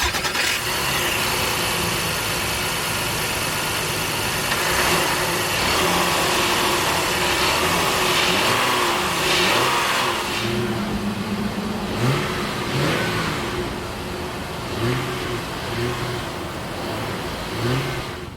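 A 2022 Honda Pilot's 3.5-liter V6 engine idles with a low rumble, then revs up and down several times in quick blips, loud and close.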